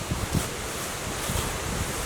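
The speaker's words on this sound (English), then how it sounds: "Super windy day out here." Strong wind buffeting an outdoor microphone near a Honda CR250R two-stroke dirt bike, a steady rushing roar with low gusty thumps, no engine or voices evident.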